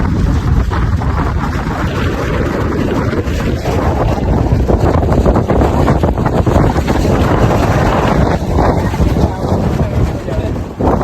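Strong wind at Junagadh in the rain buffeting the microphone, a loud continuous roaring rumble with gusty surges throughout, while people talk underneath.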